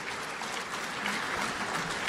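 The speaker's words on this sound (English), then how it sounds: "thank you for the applause." Applause from guests at an annual political dinner in Eastern Washington, a steady, fairly soft wash of many hands clapping that holds evenly throughout, with no talk over it.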